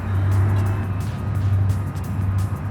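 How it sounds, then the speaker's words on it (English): Car engine braking in the BeamNG driving game, a steady low drone of the engine held under load, fairly loud and continuous with no talk. "The engine braking to help us out."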